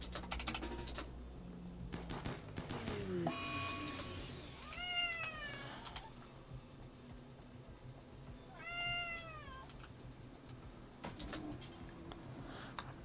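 A house cat meows insistently, two drawn-out rising-falling cries a few seconds apart, close by over the steady clatter of computer keyboard typing and clicks.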